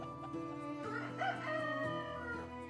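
Chickens in the farming game Medieval Dynasty cluck and crow together in a lively flock, with overlapping rooster calls and hen clucks filling the scene continuously and fairly loud throughout.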